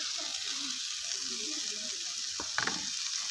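Chopped malancha greens with onion and chilli frying in a pan give a steady, close sizzling hiss throughout, with a couple of brief soft knocks near the end.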